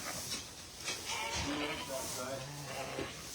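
Sheep bleat on a farm during lambing, with a few wavering calls near and at a distance over a hissy outdoor background, and a voice speaking at points.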